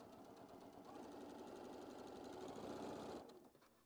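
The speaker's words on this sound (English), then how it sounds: "we're just going to go ahead and sew that down" A sewing machine runs steadily, stitching a seam in quilt fabric. It hums in one continuous close run for about three seconds, then cuts off.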